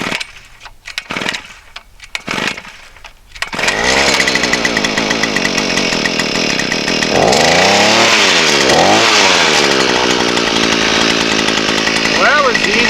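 An Earthquake E43 gas-powered auger is pull-started, then its small two-stroke engine roars loud and close, revving up and down with a rough buzzing drone after a few initial cord pulls.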